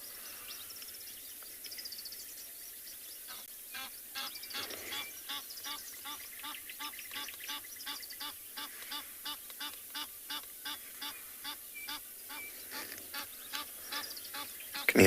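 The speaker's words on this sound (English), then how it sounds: "There's two white-faced whistling ducks that I mentioned earlier." Repeated high, thin whistling calls from ducks, evenly spaced in a steady series against quiet background, moderately distant.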